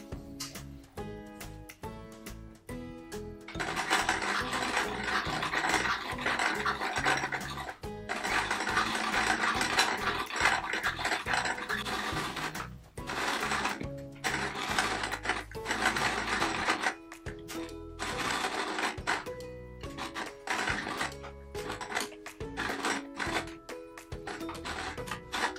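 A sewing machine stitches around a Squirrel Nutkin appliqué on a Peter Rabbit patchwork quilt, running in loud bursts of rapid rhythmic needle clatter with short pauses between runs, close up and without talk.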